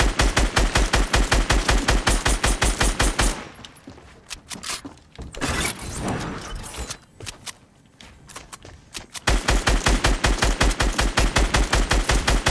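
Rapid automatic gunfire in Fortnite Battle Royale comes as loud, evenly spaced bursts of close shots, breaks into a quieter stretch of scattered noise, then resumes as another long rapid burst.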